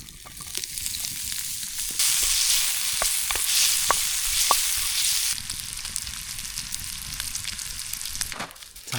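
Bacon hits a hot oiled pan at a winter campsite in -14°C cold and the sizzle jumps sharply, a bright steady crackle with a few pops, easing back down after several seconds.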